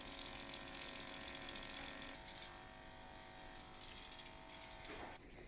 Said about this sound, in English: I clip her nails, and then I shave out her paw pads.